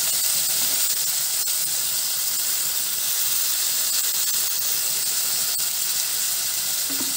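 Okra frying in oil with a little salt in a pan, giving a steady close hiss and sizzle with faint crackles throughout and no voices.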